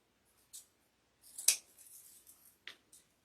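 Scissors snip through wreath ribbon tails on an Americana primitive wreath in a few close, crisp cuts, the loudest one in the middle, separated by quiet pauses.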